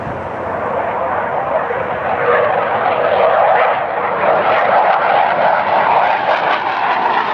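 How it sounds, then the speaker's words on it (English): A military C-130 turboprop transport roars overhead while doing touch-and-go landings, a steady, loud, broad engine drone that swells slightly as it passes close by. "we got some military aircraft. C-130's been doing some touch and goes."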